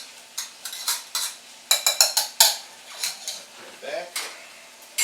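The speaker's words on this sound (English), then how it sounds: "take a potato masher here and just squish those down and get all that juice out" A potato masher squishing berries in a cooking pan for a berry sauce, giving a run of wet, irregular squelches and clacks against the pan, close and fairly loud.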